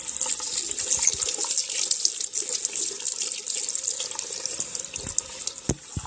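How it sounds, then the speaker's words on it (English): Hot water runs steadily from a tap into a filling sink, a continuous close hiss and splash with small drips and clinks over a constant rush. "I'm going to fill this sink up with some water, hot water"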